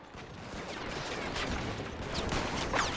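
Machine gun fire and scattered gunshots in the WW1 video game Between Empires, a dense, continuous crackle of distant battlefield shooting with a few sharper nearby bursts, heard alone without talk.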